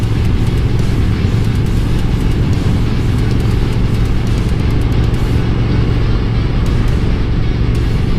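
A Speed Twin motorcycle on a ride around the neighborhood produces a loud, steady low engine drone mixed with heavy wind rush, unbroken from start to finish with no voices.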